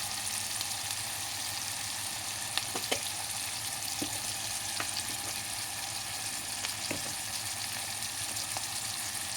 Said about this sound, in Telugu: ఇప్పుడు టమాటాలు వేసి వేయించినారండి.